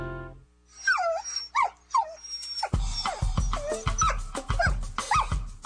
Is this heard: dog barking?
yes